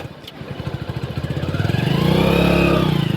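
A motorcycle engine putters close by at first, its exhaust pulsing in a steady rapid beat, then rises in pitch and loudness as it revs up, with no talk over it.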